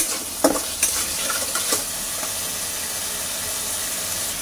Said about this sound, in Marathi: आता यामध्ये घालूया टोमॅटो सॉस। थोडा वेळ जरा भाजून घेऊया।